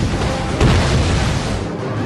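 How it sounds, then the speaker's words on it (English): Grenade blasts in a Napoleon: Total War battle, a continuous loud rumbling boom of explosions with one heavier burst near the start, dense and close with no voices. "They counter with grenadiers, throwing explosives into the British square, dealing massive casualties and morale damage to my flank."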